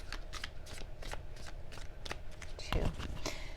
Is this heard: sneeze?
no